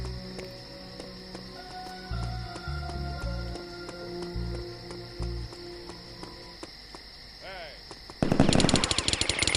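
Rapid automatic gunfire from a shooter video game set in Afghan tunnels bursts out loudly near the end, following a stretch of quieter in-game tones and thumps.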